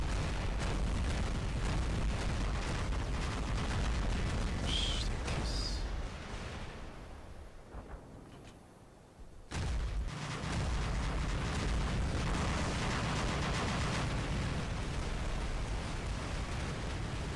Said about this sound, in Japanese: 爆風便利ですね